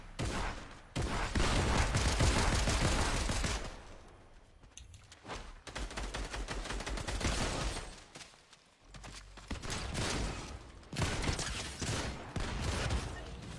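Rapid bursts of gunfire from an online battle royale shooter match, loud and dense with short pauses between volleys, some thuds mixed in.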